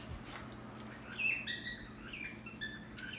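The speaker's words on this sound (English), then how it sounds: "Oh my god, that's my bird." A pet bird chirps in short high tweets scattered across a home kitchen where goat stew is cooking, with a steady low hum underneath and no talking.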